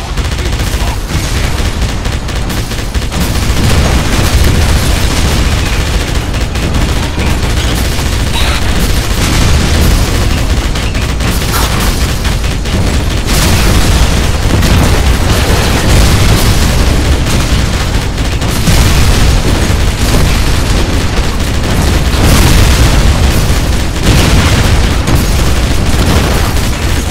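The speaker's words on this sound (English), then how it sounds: "Use the machine gun to hold the creatures off, BJ!" Relentless machine gun fire and booming explosions in the PC shooter Wolfenstein, dense and loud throughout, with bursts and blasts piling on top of each other without a break.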